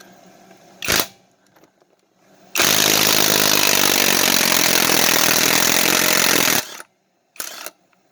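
A cheap battery power tool from Amazon runs on a nut in brake stop mode, a loud steady whir of about four seconds after a short earlier burst, then cutting off abruptly, with another brief burst just after.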